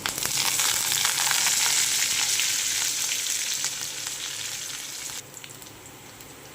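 Spring onion greens for a masoor dal kanda pat bhaji sauté in hot oil with garlic and coriander, giving a loud, dense, continuous sizzle that drops suddenly to a quieter fizz near the end.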